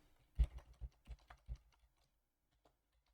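Code being typed on a computer keyboard: a quick run of about seven close, distinct key clacks, then near silence with one faint tap later.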